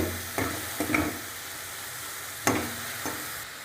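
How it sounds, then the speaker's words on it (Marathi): Tomatoes sautéing over low heat in a pan for matar paneer, a continuous soft sizzle broken by several scraping stirs, no voices. "बारीक गॅस करून 4-5 मिनिटं चांगले टोमॅटो परतून घ्यायचे।"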